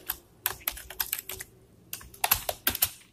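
Keys clack on a computer keyboard while C++ code for a sorting program is typed: close, crisp bursts of rapid keystrokes separated by brief pauses, with no voices.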